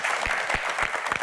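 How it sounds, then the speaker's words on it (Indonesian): Audience applause at an evening panel event, a short steady patter of clapping from a crowd with no voices over it. "tepuk tangan hadirin sekalian."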